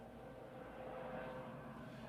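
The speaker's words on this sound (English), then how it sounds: "We're outside right now, so you hear an airplane flying over our head." Outdoors, an airplane passes overhead with a low, steady engine drone that stays faint and distant, swelling slightly in the middle.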